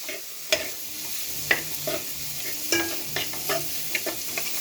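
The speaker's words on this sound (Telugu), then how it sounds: "సోయా సాస్ వేసి కూడా మిక్స్ చేయాలి." Veg fried rice is stirred and tossed in a hot pan after soy sauce goes in, a steady close sizzle broken by repeated scraping and clinking strokes of the spatula, with no voices.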